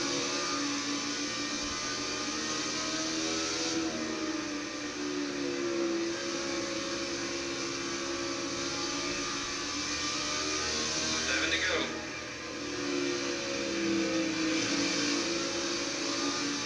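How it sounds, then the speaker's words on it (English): In a stock car racing video game at Bristol, a race car engine drones steadily at high revs, its pitch rising and dipping as it accelerates and eases off through traffic. "when I run up high, I can get my car to go faster"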